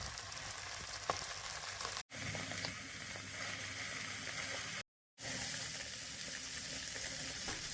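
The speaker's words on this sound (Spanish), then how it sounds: "Primero marcamos el zancarrón cortado en 3 piezas. Fuego fuerte, sin moverlo," Three pieces of beef shank sear in a pot over a strong flame, giving a steady loud sizzle and frying hiss that runs on with two brief cuts to silence.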